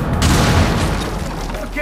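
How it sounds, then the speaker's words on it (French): A frag grenade explosion in the video game Rainbow Six Mobile lands as a loud, close boom with a heavy low rumble that decays quickly, with voices talking over it. "Balance une grenade frag."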